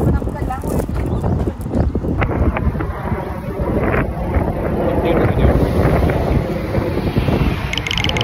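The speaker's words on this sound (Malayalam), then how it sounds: "വെയിലുണ്ടെങ്കിലും തണുത്ത കാറ്റാ" Cold wind blows outdoors in Canada on a sunny day, a steady, loud roar buffeting the microphone for the whole stretch.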